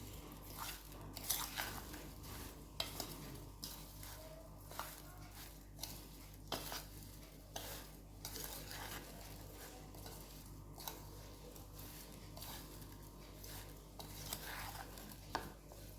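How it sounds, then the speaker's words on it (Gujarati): Spices are stirred into skin-on potatoes in a pan, giving faint scraping and soft clinks of a spoon against the pan. The taps and scrapes come irregularly over a low, steady background hum. "હવે આ બધાને આપણે મિક્સ કરી દેવાનું।"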